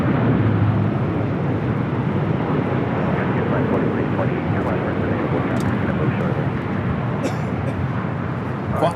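A Western Global cargo plane taxiing to its gate on the south side of LAX, a steady broadband jet engine rumble held close and loud, with a commentator talking over it.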